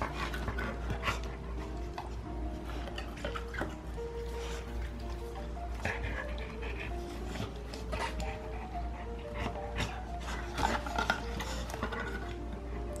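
A 90-pound pitbull gnaws and bites at a tough dog toy, producing close, irregular clicks and crunching chews mixed with steady panting, with no talking.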